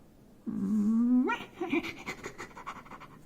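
A small dog in a dramatized French comic reading lets out a rising, whining vocal sound followed by quick, breathy panting, close and fairly loud.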